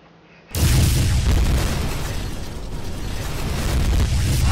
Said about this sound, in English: So, okay, we're ready to blast some plaster.